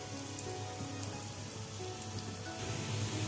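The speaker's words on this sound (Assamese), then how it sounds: "মোৰ পিঁয়াজখিনি ফ্ৰাই হৈ গৈছে" Onions frying in a pan at home, a steady soft crackle and hiss like light rain running throughout, close and even with no talking.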